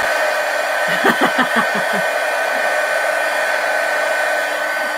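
A hair dryer semi-dries splattered ink on a paper journal, blowing a steady, close, even whoosh for the whole stretch, with a brief fluttering wobble near the start.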